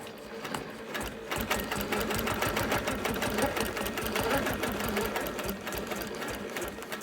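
A sewing machine quilting with an echo foot runs in a rapid, steady stitching rattle, close and continuous, easing off near the end without talk.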